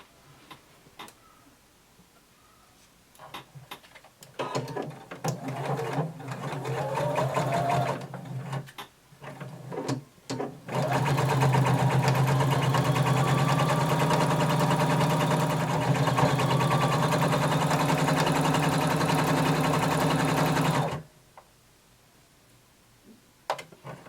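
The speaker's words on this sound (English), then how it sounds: "now we're going to sew our skirt to the bottom of our band using 5/8 of an inch seam allowance" A sewing machine joins a flared skirt to the bottom of its waistband with a 5/8 inch seam, starting in short stop-start bursts and then running in a long, steady, loud whir before stopping.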